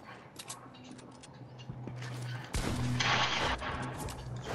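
Gunshots in the video game Fortnite: scattered sharp reports at first, then a louder burst of rapid firing over a low engine-like hum, fairly close and dense toward the end.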